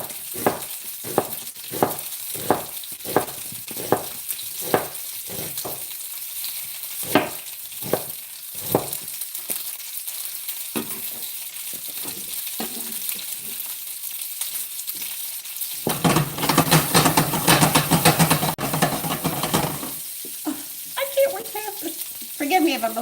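Bacon sizzling and frying in a pan, with a steady crackle under repeated sharp taps and scrapes of a utensil, then a louder burst of hissing before the sizzle settles again.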